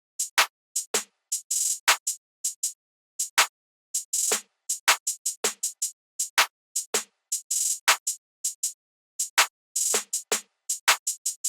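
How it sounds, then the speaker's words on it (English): A programmed trap-style snare pattern using the Luca snare sample: short, dry, crackly hits in quick bursts and rolls separated by silent gaps, close and alone. "So this is how the snare pattern sounds like."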